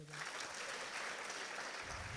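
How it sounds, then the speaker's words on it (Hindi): Students clap together at a school assembly, a dense, steady wash of applause holding at an even level for about two seconds, close and continuous. "ताली बजाओ"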